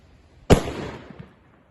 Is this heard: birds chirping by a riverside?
no